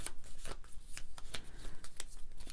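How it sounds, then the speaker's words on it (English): A deck of cards for the DungeonQuest board game is riffled and shuffled close up, a quick run of crisp, rapid flutters and taps repeating about every half second, with no talk over it. "I'm going to shuffle up our search deck a little bit."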